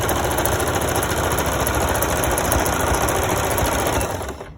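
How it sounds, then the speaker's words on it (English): Sewing machine running steadily at speed, stitching a pocket onto the side seam of a pajama pant front at a 3/8 inch seam allowance, a loud continuous mechanical whir that slows and fades at the end. "So I'm sewing the pocket to the front of the pant at the side seam at 3/8 inch seam allowance."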